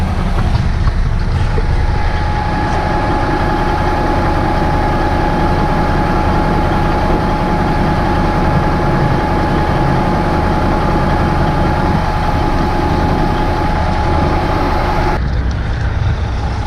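Near a backhoe job, a truck engine idles with a loud, steady low rumble that runs unbroken for the whole stretch, with no talking over it.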